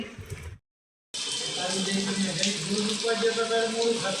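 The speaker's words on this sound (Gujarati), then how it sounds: "વરસાદ ચાલુ થઈ ગયો છે" Heavy first-of-season rain during a thunderstorm in Junagadh pours down steadily and close after a brief silent gap, a dense continuous hiss with a voice speaking over it.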